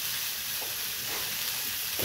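Beef burgers fry in a pan, giving a continuous, bright hissing sizzle that holds steady and fairly loud for a couple of seconds, with no voices over it.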